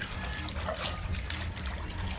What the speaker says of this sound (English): This is the way we are refill the water here.